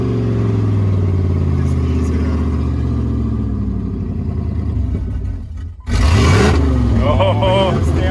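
A Dodge truck engine drones at a rough, uneven rumble, dips briefly, then surges into a loud close rev, refusing to settle at idle while people talk over it.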